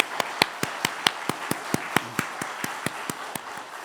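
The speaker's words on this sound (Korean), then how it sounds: "우리 영접하신 분들을 위해서 박수 한번 해드리겠습니다" Steady, evenly spaced hand claps, about seventeen in a row, from a church congregation after a prayer during a Sunday sermon, crisp and moderately near with no talking.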